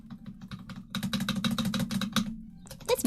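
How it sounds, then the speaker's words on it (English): Fingers type on a computer keyboard that is missing a key, producing rapid close clicking keystrokes in quick irregular bursts over a low steady hum. "This is my keyboard."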